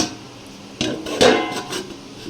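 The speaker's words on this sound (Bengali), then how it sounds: "এবার এটা ঢেকে দেবো।" A lid set onto a pot of egg curry on a home stove: a couple of soft metallic clinks and a brief rattle, close and fairly quiet, with no talking.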